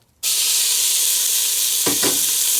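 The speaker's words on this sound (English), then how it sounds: "So I'm going to let this bacon get brown" Bacon hitting a hot iron skillet pot bursts into a loud, dense, steady sizzle right at the start, with a couple of brief scraping stirs partway through.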